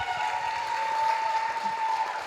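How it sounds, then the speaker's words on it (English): A church audience claps warmly as two people are brought up front, a continuous, even patter of applause, with a steady tone humming underneath. "Round of applause for Shona and Cassidy, everyone."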